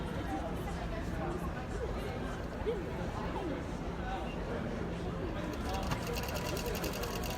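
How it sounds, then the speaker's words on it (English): A Gammill Elevate longarm quilting machine takes single tie-off stitches at a busy quilt trade show, its soft mechanical pulsing mostly buried under steady crowd chatter and hall noise. "It's going to take single stitches to tie off the pattern."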